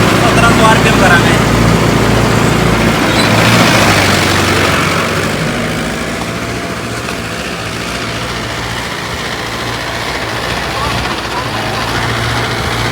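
A Mahindra tractor with an upgraded CRDI 655 engine runs at about 1700 rpm, giving a loud, steady diesel drone with a low throb. It eases slightly quieter partway through and runs under intermittent talk.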